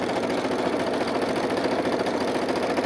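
A sewing machine stitches scrappy rainbow fabric strips, a steady close mechanical whir with a fast even needle rhythm running without pause.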